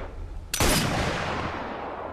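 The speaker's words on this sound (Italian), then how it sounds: "non dovrebbe avermi sentito nessuno perché ho sparato nel momento giusto" A single sharp sniper rifle shot in the snowy VR shooter Sniper Elite VR Winter Warrior, a loud sudden crack after near-silence that rolls off into a long, fading echoing tail.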